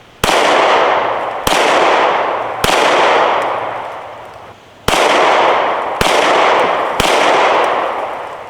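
A Glock 43X pistol fires six Hornady Critical Defense 124 grain rounds, each a sharp, loud close report with a long ringing decay, spaced about one to two seconds apart, with no talking.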